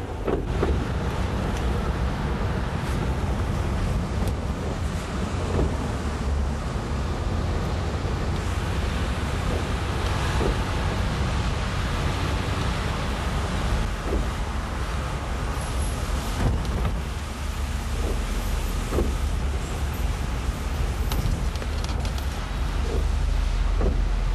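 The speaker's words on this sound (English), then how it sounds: "On-ramp to the Brooklyn Bridge, which there must be an accident because there's a lot of traffic here" Heavy traffic crawling onto the Brooklyn Bridge on-ramp in 1994, a steady low rumble of engines and road noise with wind buffeting the microphone throughout.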